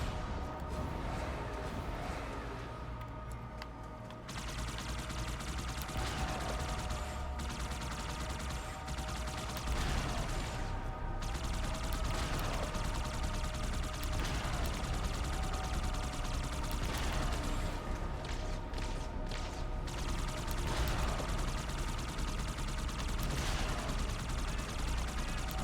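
Sustained gunfire in the video game Halo 2 forms a dense, continuous battle bed of rapid shots and bursts at steady loudness, with a brief dip early on before the firing resumes.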